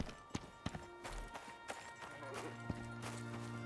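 Horses running in the survival video game Icarus, a quick series of sharp hoof thuds at irregular spacing over a low ambient hum and game music.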